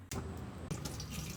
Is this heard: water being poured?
yes